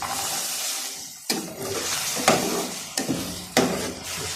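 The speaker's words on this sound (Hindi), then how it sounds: "इसको अच्छी तरह से हिला लेंगे।" Peas are stirred into chicken frying in a pan, giving a steady sizzle broken by several sharp spoon knocks and scrapes against the pan.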